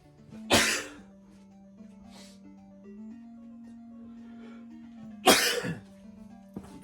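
A person indoors, irritated by grass, sneezes twice, several seconds apart. Each sneeze is a loud, harsh, close burst over a steady low electronic hum with faint tonal background sounds.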